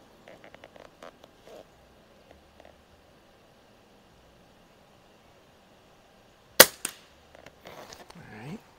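Walther LGR scoped air rifle fired outdoors at a 50-yard target, one sharp, loud crack standing out against quiet surroundings, with faint clicks and handling noises before it and after it.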